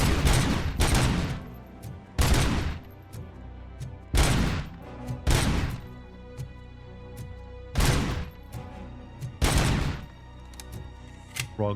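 Bursts of automatic machine gun fire from Robocop: Rogue City, a weapon with a Browning .50 barrel and an M60 stock, ring out loudly in about seven sharp volleys spaced a second or two apart, with no talking.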